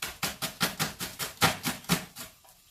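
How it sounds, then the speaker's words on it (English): Rapid knife chopping of an onion on a cutting board, about nine crisp even strokes in a steady rhythm, close and clear, trailing off at the end. "I will be chopping in 1 onion"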